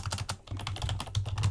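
Computer keyboard typing picked up by a streamer's microphone, a rapid, continuous patter of close keystrokes with no voices.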